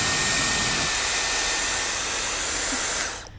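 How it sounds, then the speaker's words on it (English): Dyson Airwrap hair dryer with its blow dryer attachment running loud and steady with a broad, airy whoosh, alone with no talking, cutting off abruptly just before the end. "Also, that's how loud it is."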